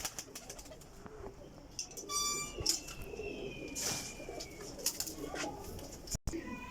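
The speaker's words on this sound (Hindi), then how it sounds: "ए जनाब मेरी काला फुल्ला कबूतर है चिट्टियां पल्लियां च।" Black pigeon with white-tipped wing feathers, a flying-breed bird, cooing softly amid other pigeons, with a few louder calls and a brief flutter of wings over steady background noise.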